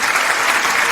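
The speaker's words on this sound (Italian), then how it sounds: "Facciamo un applauso per Massimo Fiore e Salvo Randazzo." Studio audience applauding steadily through a radio-TV broadcast, a dense, even wash of clapping with no pauses.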